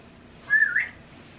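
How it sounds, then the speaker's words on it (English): A single short whistled call from a pet bird indoors in the morning, a bright rising-and-bending note lasting under half a second, fairly clear against a quiet room. "the bird is making noise"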